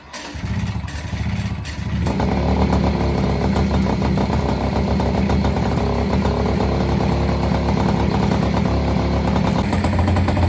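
A Peugeot 103 Vogue moped fitted with an Airsal kit fires up for its first start: a few short sputters, then the two-stroke engine catches and buzzes loudly and steadily at close range, with no talking.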